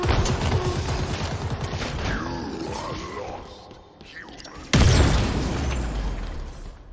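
Relays destroyed in the Halo Infinite campaign: rumbling booms and bursts under a dense game soundscape with whooshing effects, followed by a sudden loud explosion that lingers and decays.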